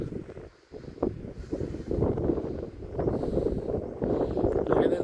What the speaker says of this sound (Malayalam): കാറ്റ് നല്ല കൂടിയ ഏരിയയുണ്ട്